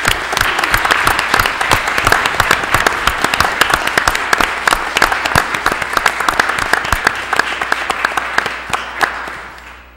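Audience applause for police and fire chiefs and their departments at a municipal reorganization meeting, a dense, steady round of many hands clapping close by for about ten seconds before tapering off at the end.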